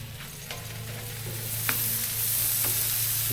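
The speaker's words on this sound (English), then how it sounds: "we're gonna start the sausage over here on this side" Sausage sizzles on a converted flat-top griddle, a steady close frying hiss. Occasional soft clicks and scrapes of a spatula break through, and the hiss grows slightly louder toward the end.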